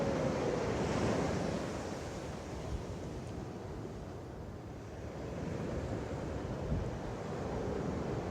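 Ocean waves roll and wash continuously onto a beach, a broad steady roar of surf with wind, swelling slightly toward the end, with no voices.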